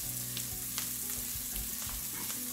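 A seasoned prawn and crab mixture with butter, salt and black pepper sizzles quietly in a pan, a low steady hiss with light scraping stirs and a sharper knock at the end.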